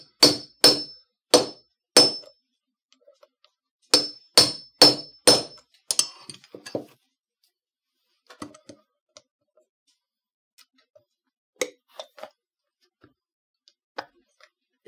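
Sharp metallic hammer strikes setting rivets into leather for a saddle bag, in quick bursts of three or four, loud and close, then sparse lighter taps and faint clicks with long quiet gaps.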